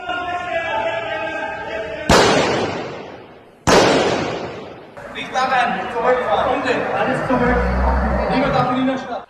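Two loud, sharp gunshots crack in a narrow Vienna street lined with restaurants and bars during a terrorist attack, each ringing off the buildings in a long echo before a noisy stretch with voices follows.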